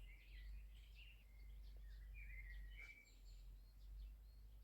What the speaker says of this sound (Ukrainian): Пташки співають, дощик пройшов,